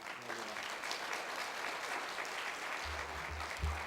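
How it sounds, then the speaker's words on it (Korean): Applause from a church congregation at an evening service as the pastor steps up, a steady, dense wash of clapping throughout with low hum and a few thumps near the end. "이 시간 우리 귀한 목사님 나오실 때에 한번 격려 감사의 박수 한번 올리겠습니다."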